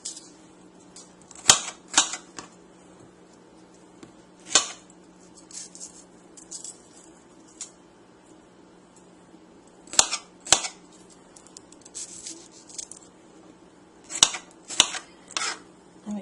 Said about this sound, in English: If you don't want to see me chop the rest of the green pepper